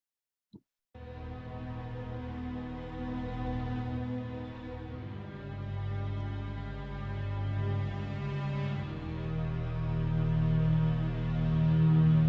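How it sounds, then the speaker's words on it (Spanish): After a brief tap, a string ensemble swells in, sustained bowed chords played together, gradually growing louder and fuller toward the end. "Entonces todas estas cuerdas suenan simultáneamente"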